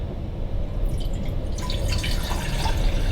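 Water running and trickling in a home kitchen, filtered water poured from a Pure brand water filter, a steady close splashing flow with some brighter dripping textures in the second half and no talk.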